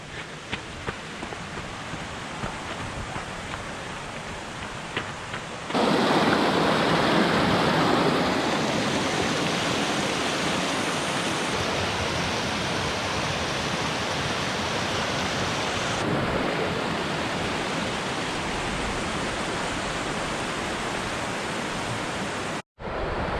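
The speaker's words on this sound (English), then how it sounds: "Here's our first look at North Cheyenne Creek, which is the creek that runs along our hike that we're about to turn onto." North Cheyenne Creek flowing beside a Pikes Peak hiking trail in Colorado, a steady, loud broadband rush of water that jumps up sharply partway through as if coming closer, then holds constant.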